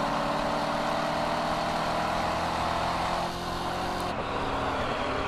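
A Chevrolet Corvette Z06 climbs a hill on a race track under power, a steady loud engine roar with road and wind noise that dips slightly near the end.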